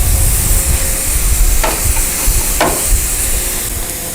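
A Hawaiian-style steak sizzles loudly in the pan, a close, constant frying hiss with a couple of sharper crackling spurts partway through, no voices over it.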